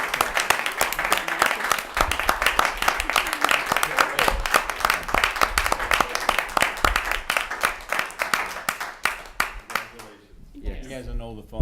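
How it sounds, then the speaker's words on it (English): A board of selectmen meeting audience breaks into steady applause, dense overlapping claps sustained for about ten seconds before thinning out as a voice begins talking at the end. "I think she deserves a big round of applause for all that she does"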